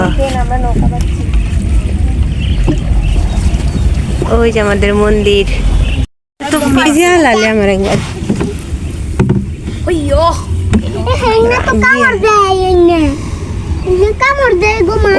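A boat glides across village waters while people, including a child, talk close by almost throughout; the steady water and hull noise stays under the voices, with a brief dropout midway.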